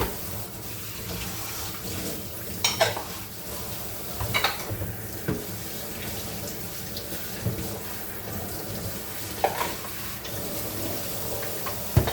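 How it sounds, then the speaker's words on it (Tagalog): Water bubbles and churns continuously in a pot at a rolling boil, with occasional louder pops and clanks, close by. "Kumukulo na siya guys."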